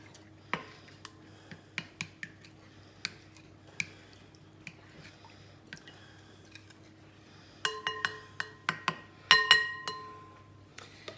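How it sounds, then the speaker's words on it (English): A spoon clinks against a glass bowl while stirring sugar into a yeast mixture, a series of light, sharp ticks and chinks that cluster more densely toward the end, close and quiet with no talk. "Give it a little bit of a stir just to stir in that sugar."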